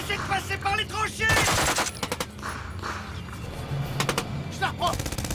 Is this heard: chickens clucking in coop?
no